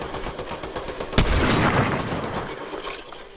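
Rapid Fortnite gunfire rattles in dense bursts, with one heavier blast partway through and a rumbling, fading tail of shots afterward.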